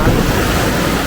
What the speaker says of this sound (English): I need to get away from the waves here.